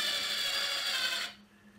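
A power drill running in reverse against wood while assembling a wooden dulcimer kit, a steady close whirring rasp that cuts off after about a second, leaving a faint hum.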